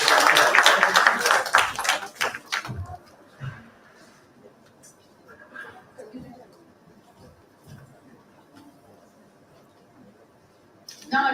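Audience applause for a panel speaker at a university marketing conference, loud dense clapping for about two and a half seconds that quickly dies to a quiet room with scattered faint sounds, then a brief burst of noise at the end.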